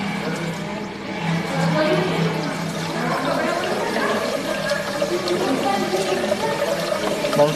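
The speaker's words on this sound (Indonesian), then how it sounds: "untuk mengisi bottom tank kita putar keran pada F18 sampai dengan batas 3 cm." Water rushes and gurgles as a tap is opened to fill the bottom tank of a lab process rig, a steady, close flow with bubbling that keeps going under a background hum.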